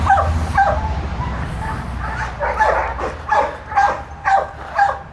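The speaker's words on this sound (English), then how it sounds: "There's other dogs around barking." Several dogs bark in quick bursts at a play and training session, sharp yips and barks repeating in an uneven rhythm, fairly close, over an outdoor background hum.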